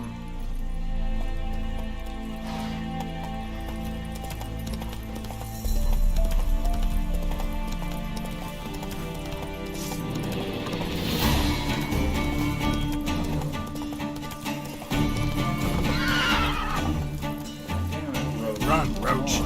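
Roach, Geralt's horse in The Witcher video game, gallops with rhythmic hoof clip-clops and an occasional neigh, mixed under game music and spoken commands.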